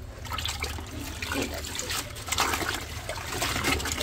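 Neem leaves soaked in a basket being washed and rinsed in water, with steady sloshing and trickling close by, fairly loud and continuous, with no talk.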